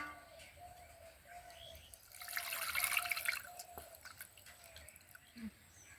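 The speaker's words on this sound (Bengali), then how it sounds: "ধুয়ে ফেলতে হবে ঠান্ডা জল দিয়ে ধোয়ার কারণে দেখবেন ছানাগুলো একদম নরম আর সফট থাকবে" Fresh chhana (cheese curds) being rinsed in cold water by hand, with soft drips and splashes building to a fuller wash of running water midway, then quiet dripping.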